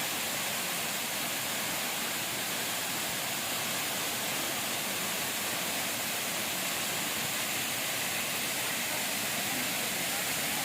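Igpupula Falls, an undeveloped waterfall with cold water, roaring as a dense, constant broadband rush close by, steady and unbroken with no voices over it.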